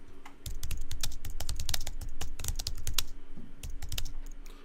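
Fingers type text on a computer keyboard in a steady run of close, crisp key clicks with uneven rhythm and brief pauses. No one talks.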